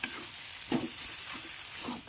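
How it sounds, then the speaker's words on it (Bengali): A spatula stirs taro leaf curry in a wok, giving soft scraping strokes about every half second over a steady low sizzle, close and moderately quiet with no talking. "এরমভাবে কিন্তু খুন্তি দিয়ে কন্টিনিউ নাড়তে হবে"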